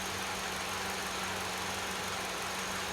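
Peugeot VTi engine idling with low oil pressure, a steady, even mechanical drone with a faint low hum and no revving, heard alone without any talking.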